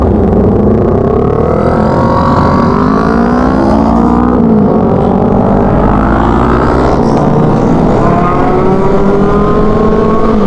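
Kawasaki Ninja motorcycles with aftermarket mufflers revving on a group ride, loud engine tones rising and sweeping through gears continuously, close by and dominating.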